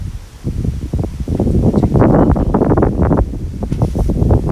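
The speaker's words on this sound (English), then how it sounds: "A little windy this morning." Gusty morning wind buffets an outdoor microphone, roaring and rumbling in loud uneven bursts that swell and ease throughout.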